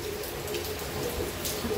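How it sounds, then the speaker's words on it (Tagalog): Heavy rain from Tropical Storm Wipha in Hong Kong patters and hisses steadily, a dense close spray of drops striking hard surfaces without pause. "Kaso ang lakas ng ulan."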